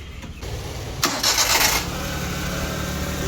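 A Maruti 800 car engine cranks and catches after a new spark plug is fitted, a short starter whirr followed by a steady, even idle, loud and close with no talking.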